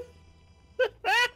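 A video game character lets out two burps, a short one and then a longer, louder, drawn-out one, over a faint background hum.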